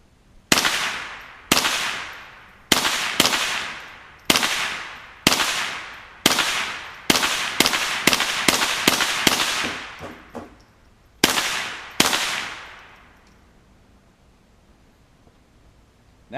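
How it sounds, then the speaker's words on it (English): Small caliber gunshots fired at a mailbox in a backyard, about a dozen sharp loud cracks with ringing tails, spaced irregularly with a quicker burst in the middle, then silence. "see what a couple of small caliber bullets will do to this mailbox"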